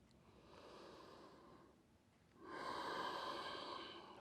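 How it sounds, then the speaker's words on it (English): Deep, long inhalation during a guided yoga breathing sequence, a soft breathy rush that swells after a quieter exhale, close and unaccompanied by talk. "Breathe in."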